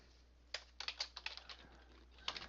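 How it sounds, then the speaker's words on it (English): Quick, light keystrokes on a computer keyboard, about a dozen taps in uneven bursts, faint and close, with no talking. "I'll just type it right in."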